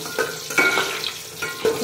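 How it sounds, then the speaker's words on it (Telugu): Coriander seeds and dry red chillies frying in hot oil on low heat, a close, crackling sizzle with a few sharp stirring scrapes and pops, no talking. "ధనియాలు, ఎండు మిరపకాయలు వేసుకున్నానండి నేను ఇక్కడ"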